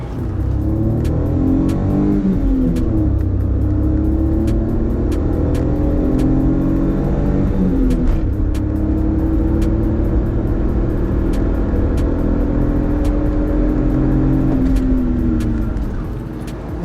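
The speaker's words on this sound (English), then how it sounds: "once you put your pedal down to the floor, this thing is pretty" A modded 25-year-old Suzuki Alto accelerates hard with the pedal floored, its small engine droning loud and close from inside the cabin, revs climbing steadily with brief dips at gear changes, no speech.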